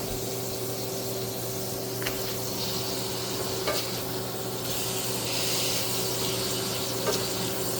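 Burgers frying in a greasy pan give off a steady, loud sizzle with crackling pops and occasional scraping touches, close up and continuous, with a faint electrical hum underneath and no talking.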